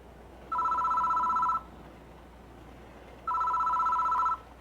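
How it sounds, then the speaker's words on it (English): A telephone rings twice in the horror video game Spirit Hunter: NG, two clean, even electronic trills about a second long separated by a gap, alone over a faint background hum. "Doesn't seem to want to stop ringing, so I reach for the phone."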